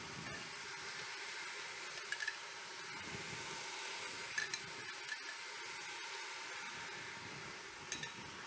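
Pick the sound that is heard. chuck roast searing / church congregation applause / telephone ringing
chuck roast searing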